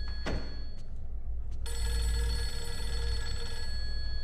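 A telephone bell in the video game Fatal Frame 3 rings steadily, loud and electronic, over a constant low hum with a few faint clicks before it starts.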